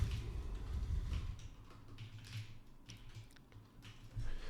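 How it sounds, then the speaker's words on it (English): Soft, irregular keyboard clicking over a low background hum, quiet and close, with no voices. "Oops, having a little typing problems here."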